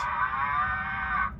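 A sustained, nasal bellow like a cow's moo plays through a loudspeaker, steady and fairly loud over a low background rumble.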